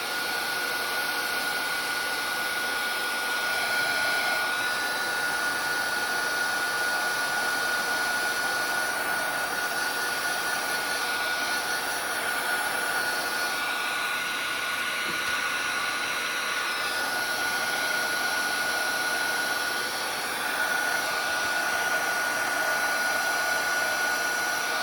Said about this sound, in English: Hopefully that's the end of the heat tool, because I really don't like running that since I can't pause and you have to hear it.